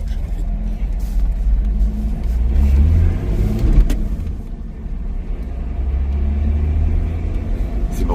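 A 2021 Lotus Exige sports car driving, with a deep engine rumble that swells as it accelerates and then settles into a steady low drone, heard from inside the car.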